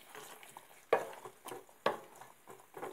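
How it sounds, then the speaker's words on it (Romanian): Almonds are stirred continuously in a frying pan, with soft scraping and a few sharp utensil knocks against the pan over a faint sizzle, close and fairly quiet with no talk. "Prăjim migdalele. Trebuie amestecate în continuu să nu se ardă."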